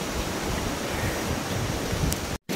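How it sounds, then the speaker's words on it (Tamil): Strong wind blows around a treehouse in a Sigiriya village, a steady, dense rushing noise with no talk, cutting out abruptly just before the end. "நல்ல காற்றடிக்குது."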